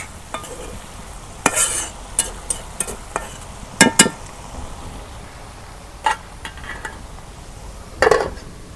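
Village-style cabbage fries in plenty of oil with no water, stirred in a pan: irregular scraping strokes and metallic clanks rise over a faint continuous sizzle.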